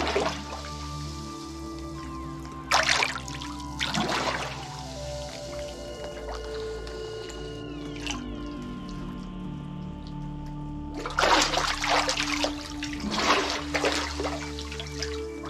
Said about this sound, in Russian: Необычные звуки, когда пузыри поднимаются.